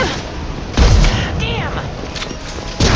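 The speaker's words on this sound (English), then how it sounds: "Firing concussive shot!" A concussive shot fired in the video game Mass Effect 2, a heavy booming impact near one second and another at the end amid combat noise and game voices.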